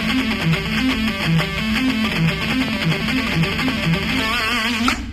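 An electric guitar plays a fast, sped-up triplet lick from a rock lesson, cycling a steady repeating note pattern across a set of three strings. It runs continuously and alone, close and fairly loud, with no talking.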